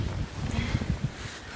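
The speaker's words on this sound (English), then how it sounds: "Windy." Wind gusts roar and buffet the microphone outdoors in the snowy aftermath of a historic 2013 blizzard in Bristol, Connecticut, a steady broadband rush with low thumping gusts throughout.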